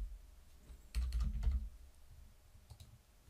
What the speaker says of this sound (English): If I now type in Joe Soap